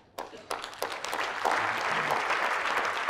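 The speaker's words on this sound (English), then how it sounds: "I know you applaud, but me, I don't like clapping." An audience starts applauding with a few separate claps that quickly build into steady, fairly close clapping from many people, carrying on evenly after the first second.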